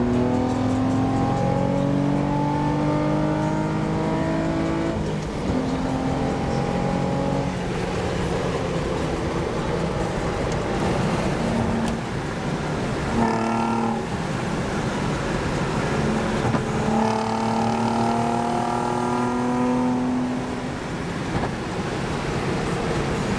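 An Infiniti G35 with 170,000 miles drives along an Arizona road, its engine note rising and falling through several accelerations under steady loud wind and road roar, with no talking.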